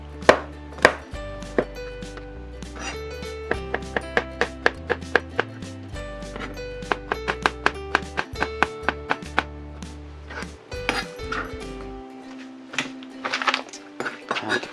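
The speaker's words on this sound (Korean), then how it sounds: "양송이는 끝부분을 좀 잘라주시고요. 이렇게 슬라이스 해주시면 돼요." Button mushrooms sliced with a knife on a board: quick, evenly spaced cuts in bursts, crisp and close, over background music.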